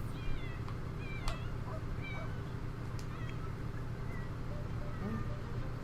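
A cat meows several times in The Sims 4, fairly faint over a low hum and a voice talking.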